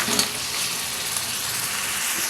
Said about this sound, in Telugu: ఇప్పుడు దీనిలో క్లీన్ చేసి ఉంచిన ఈ పీతలను వేసారు